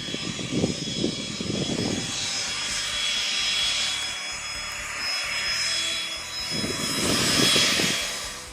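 A Honda GX690 engine powers a small aircraft, giving a steady, loud roar with a broad windy hiss. Deeper throbbing pulses swell near the start and again toward the end.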